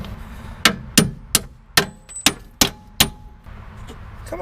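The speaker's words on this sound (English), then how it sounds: "Get a hammer" Repeated hammer blows on a Mazda strut/sway bar link during replacement, about seven sharp metallic strikes in an uneven rhythm, close and loud, with ringing clangs between them and no talk.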